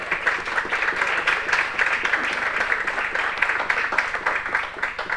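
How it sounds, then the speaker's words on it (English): An audience at a science-week beer event claps in sustained, dense applause from start to finish, steady and fairly loud with no talking over it. "so round of applause for Grant"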